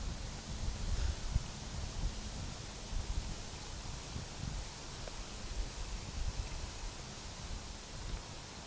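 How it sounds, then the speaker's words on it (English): Wind sweeps steadily through cedar trees, a soft, continuous rustling hiss with gentle surges and low rumble, fairly quiet and unbroken by voices. "Wind through cedars."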